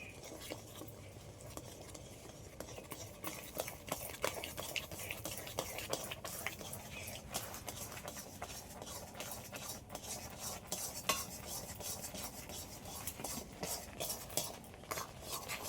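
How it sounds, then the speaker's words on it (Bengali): A spatula stirring Gobindobhog rice flour in a pan, with quiet, rapid scraping and tapping strokes that repeat steadily, faint and close, with a light sizzle beneath. "চালের গুঁড়োটা এভাবে দেবো আর খুনতে দিয়ে এইভাবে নাড়তে হবে"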